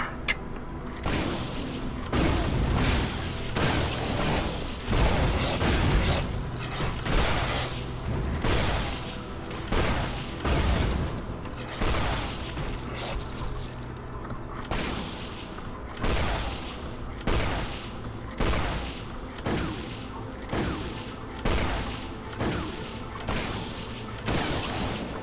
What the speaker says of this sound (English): That noise, that's the Halo sniper rifle I remember.